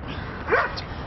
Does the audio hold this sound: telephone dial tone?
no